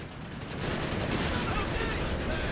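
An MG40 machine gun fires in Company of Heroes 3 amid a loud, dense battlefield din that swells after a moment and stays continuous, with sustained rattling bursts.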